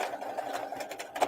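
A sewing machine top stitching fabric runs in a quick, even mechanical whir with rapid needle ticks, close and moderately loud, with no talking over it.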